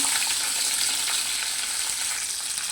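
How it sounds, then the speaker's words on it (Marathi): Drumsticks frying in a little oil with curry leaves and green chillies: a dense, even sizzle holding steady throughout, close and moderately loud, with no voices. "शेवग्याच्या ते शेंगा आपण थोड्याशा अशा तेलामध्ये परतून घेऊन"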